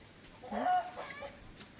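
A single short chicken cluck at a rural Thai home, close and moderately loud against a quiet background.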